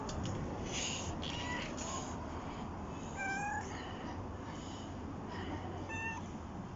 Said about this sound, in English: Today we are recording with a cat.